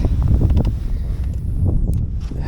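Strong wind while fishing buffets the microphone in a constant low rumble, with a few faint gusty rustles throughout and no talking.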